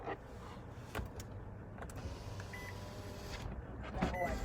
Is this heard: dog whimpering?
no